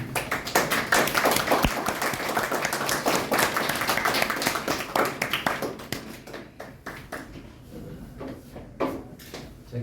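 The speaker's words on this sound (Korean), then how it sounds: "강사님 나오실 때 박수로 한번 하니까" An audience at a seminar on death-and-dying culture claps for the arriving lecturer, dense, loud clapping that thins toward the end into a few scattered, distinct claps.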